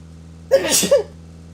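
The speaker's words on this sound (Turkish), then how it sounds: "Hapşuracağım." A single close, loud human sneeze with a sharp intake and explosive burst, over a low steady hum of a game vehicle engine.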